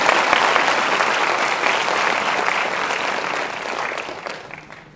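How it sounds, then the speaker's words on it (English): An audience claps steadily at Yuvak Biradari's 40th anniversary event. The dense, even applause fills the hall for several seconds, then gradually thins and fades away. "Feel free to clap, he deserves it."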